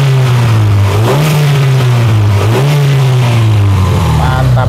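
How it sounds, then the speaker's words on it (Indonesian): An Opel Blazer engine is revved close up, its loud note climbing in two distinct surges over a constant idle drone. "Untuk mesinnya pada saat kita gas-gas dan los gas tidak ada suara yang mencurigakan"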